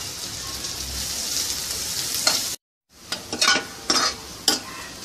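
Chopped onion frying in a little oil hisses in a steady broadband sizzle, cut off by a short silence, then resumes with sharper bursts as the pan is stirred.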